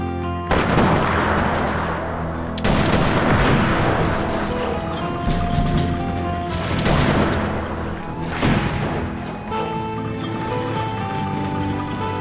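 Cannon fire in the strategy game American Conquest, several heavy booming volleys and crashes spread across the stretch over dense battle noise, with no talking.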